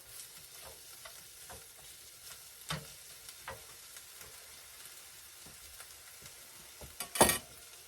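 Food sautéing in a thin, new skillet bought at a dollar store while preparing an omelet, with a soft, faint sizzle, scattered stirring scrapes and taps, and a louder clatter near the end.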